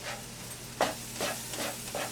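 Flour cooks and browns in a pan for chicken gravy, giving a soft continuous sizzle with a few scraping strokes as it is pushed around. The sound is close and moderate, and nobody speaks.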